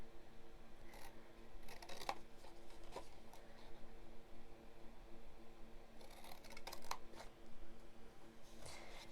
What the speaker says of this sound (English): cut up to that second horizontal line. Cut up each score line